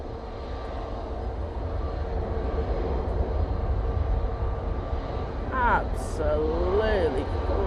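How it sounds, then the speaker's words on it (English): Cathay Pacific airliner landing in strong wind, a sustained loud engine roar mixed with heavy wind rumble, rising in a whine near the end while people talk over it. "Absolutely crazy landing there from the Cathay Pacific."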